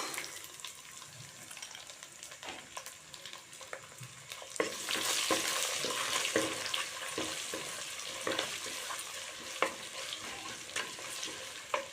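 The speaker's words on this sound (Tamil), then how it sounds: "நல்லா வதங்கணும் வெங்காயம் நல்லா வதங்கிருச்சு" Onions sautéing in a pan for a seela fish curry, with a soft sizzle under repeated scraping and stirring clicks from a utensil, fairly quiet and fuller after a few seconds.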